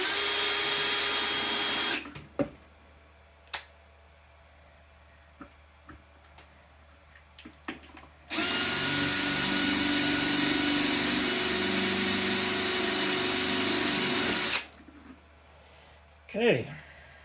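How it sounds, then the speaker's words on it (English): Power drill boring holes through a PC board being fastened to wood, two long steady whirring bursts with quieter handling clicks and taps between them, close and loud. "drill a hole in this PC board here"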